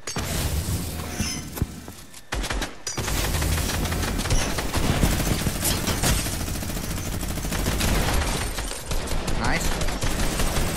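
Dense, continuous video-game gunfire in a shooter match, rapid automatic bursts and loud shots layered without pause, close and full, with player voices occasionally over it.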